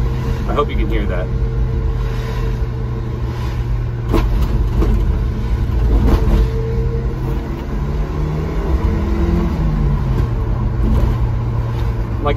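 A Subaru Sambar truck engine, freshly carburetor-tuned, drones loudly and steadily as it climbs smoothly through its revs, with a person talking over the running motor.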